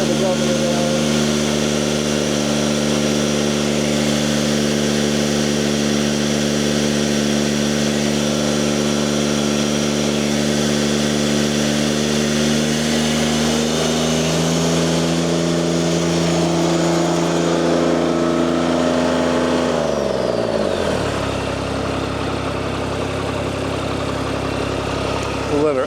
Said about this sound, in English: We'll let her idle down here just a little bit.